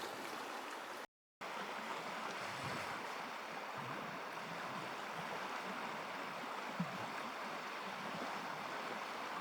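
A small river flows steadily through cold, windless taiga, giving a continuous broadband rush of water. It stays constant throughout apart from a brief dropout near the start.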